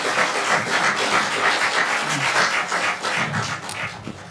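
Audience applause for speakers after a panel talk on alien life, a steady broadband clapping that fills the whole moment and fades slightly toward the end, with no voices over it.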